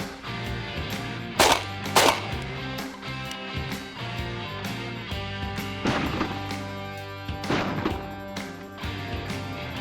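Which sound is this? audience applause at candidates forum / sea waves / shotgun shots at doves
shotgun shots at doves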